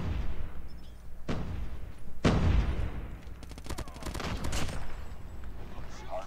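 Cordite submachine gun in COD Mobile hipfired in a hardpoint match: two loud single blasts, then a rapid burst of automatic fire that tails off, with game noise and voice chatter throughout.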